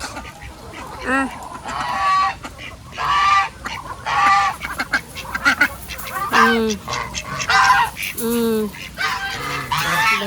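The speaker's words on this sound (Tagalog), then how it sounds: "So dire na pud ta sa atong itik." Ducks kept by a family call out in a noisy flock, with repeated harsh honking quacks in loud bursts through most of the stretch, voices overlapping close by.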